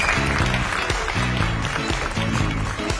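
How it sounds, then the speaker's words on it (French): A contest audience applauds the final contestant, Idriss. Brisk clapping runs under a rhythmic music track with repeated short tonal notes, fairly loud and continuous. "veuillez applaudir notre dernier concurrent, Idriss"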